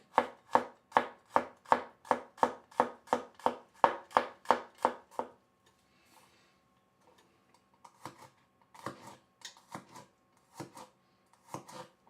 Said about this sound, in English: This can be a rough chop on the garlic.